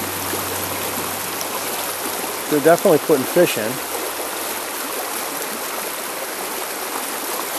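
The Salmon River runs as a small stream with a steady, broad rush of water that holds throughout, while a voice speaks briefly in the middle over the flow.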